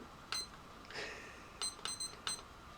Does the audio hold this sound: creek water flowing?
no